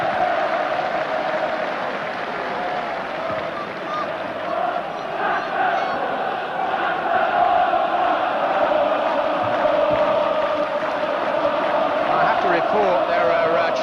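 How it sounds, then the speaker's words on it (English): A Newcastle United football crowd in a 1987-88 stadium match against Liverpool, chanting against the board of directors from their sections. A dense, steady roar of massed voices carries on throughout, with rising swells of singing and shouting and no pause. "There are chants coming from the Newcastle sections of the crowd aimed against the board of directors and possibly the manager"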